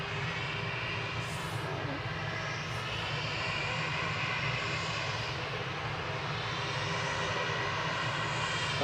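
An SAS Airbus A320neo inbound from Stockholm to Manchester Airport on approach gives a steady, continuous engine roar, moderately distant, holding even across the whole span with no talk over it.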